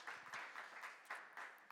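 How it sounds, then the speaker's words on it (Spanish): Audience applause welcoming filmmaker Maura del Pero, a quiet, steady patter of clapping with small swells, heard from a distance in a hall. "Os pido un fuerte aplauso de bienvenida para Maura del Pero"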